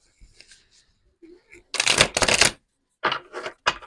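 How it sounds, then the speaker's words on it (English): Tarot cards are shuffled in short, crisp riffling bursts, with a couple of loud flurries between quieter handling sounds and brief pauses. "Let's try that shuffle again."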